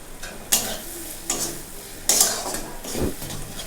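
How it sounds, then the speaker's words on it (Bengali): Ground cumin and coriander fry in a pan over a low flame with a faint sizzle. Several distinct scraping strokes of a spoon stir them at irregular intervals. "ভালো করে নাড়িয়ে নেব।"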